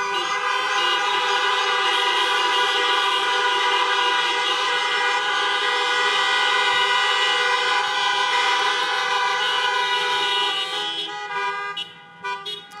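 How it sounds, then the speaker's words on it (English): A sustained chorus of overlapping car horns blares loudly and continuously from vehicles at an outdoor drive-in graduation convocation, with no voices heard, then breaks up into a few scattered honks near the end. "Graduates, may I ask that you please honk your horn or give them a hug if you're on the live stream."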